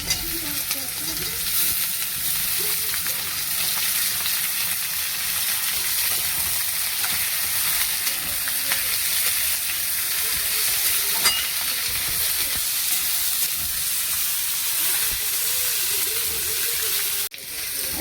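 Young eggplant pieces fry in a pan for a Bengali vegetable chorchori, giving a steady, dense sizzle that holds evenly throughout and dips briefly near the end.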